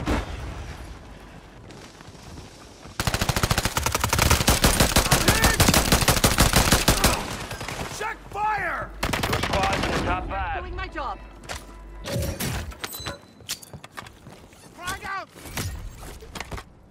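Gunfire in Call of Duty Warzone on Rebirth Island: a dense, loud burst of rapid automatic shots runs for several seconds, then scattered single cracks and short volleys continue while players talk excitedly.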